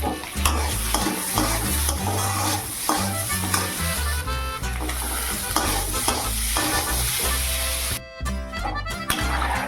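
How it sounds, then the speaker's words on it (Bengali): Potatoes fry with salt and turmeric in a pan, an ongoing sizzle broken by repeated scraping and stirring strokes, close and fairly loud, with no talking. "তারপরে লবণ হলুদ দিয়ে ভালো করে ভেজে নেব, আলুটাকে কষিয়ে নেব।"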